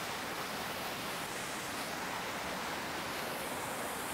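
A waterfall pouring steadily, heard as an even, unbroken wash of rushing water with no talk, fairly soft and constant throughout.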